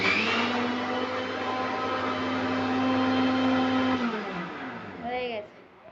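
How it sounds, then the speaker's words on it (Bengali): An electric kitchen mixer whirs steadily while blending yogurt lassi, a loud, close motor drone holding for about four seconds before winding down and stopping, with a brief voice at the end. "এইবার একটুখানি আর একটু মিক্সিতে করে আবার মিক্স করে নেবে"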